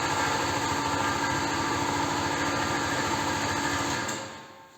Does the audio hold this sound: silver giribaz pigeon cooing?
no